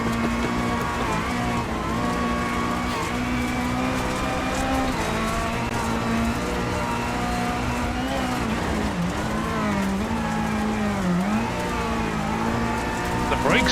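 A Citroen rally car roars continuously through a racing video game, its engine droning steadily with shifts in pitch as it accelerates and brakes, loud and constant throughout.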